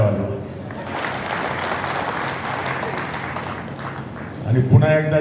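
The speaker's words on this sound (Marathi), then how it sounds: "एकदा फटाक्याच्या टाळ्या वाजवा" Crowd applause at a public gathering, a dense, sustained wash of clapping heard close and loud for several seconds, with a voice speaking over the tail end.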